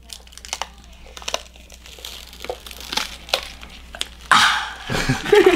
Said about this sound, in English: there's nothing more satisfying than peeling the plastic off of a new unit.